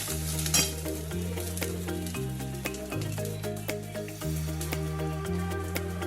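Spice paste for a Bengali vegetarian egg curry sautéing in a pan, with a steady low sizzle and repeated scraping stirs over soft background music.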